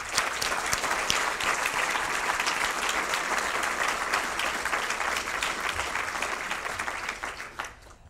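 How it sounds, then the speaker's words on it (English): A crowd gives a big round of applause for young filmmakers at a live-streamed Faith Shorts event, steady and sustained clapping throughout that tapers off at the very end. "give them another big round of applause for all their efforts"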